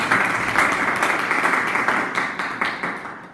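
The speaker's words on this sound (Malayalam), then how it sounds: "ഒരു നല്ല കയ്യടിയോട്" Audience applauding at a Toastmasters club meeting in Qatar: steady, dense clapping from a room full of people that holds throughout and tapers slightly near the end.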